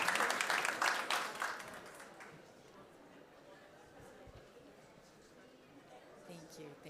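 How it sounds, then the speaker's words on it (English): An audience claps for a departing speaker, a burst of applause at the start that fades within about two seconds, leaving quiet room murmur and faint talk. "Could we give her a round of applause and thank her?"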